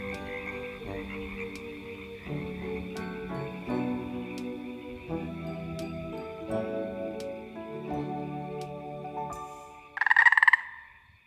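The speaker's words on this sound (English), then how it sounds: "Why do frogs croak at night?" Frogs croak at night in a layered outdoor chorus of steady overlapping calls, with one louder, closer burst of croaking near the end.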